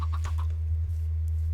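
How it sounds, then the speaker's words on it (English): A video game chicken clucks in a quick burst of short notes over a steady low background hum. "So I found the chicken, but I lost the chicken again."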